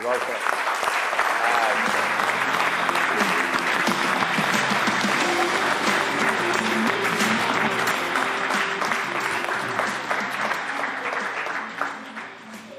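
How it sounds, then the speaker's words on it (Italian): Applause from an audience for Cicci, a well-loved figure at Rupinaro who works with children, filling the whole stretch as steady dense clapping with some background voices, tapering off slightly at the end. "Facciamo un applauso a Cicci."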